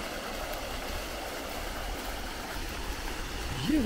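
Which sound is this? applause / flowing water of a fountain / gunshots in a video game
flowing water of a fountain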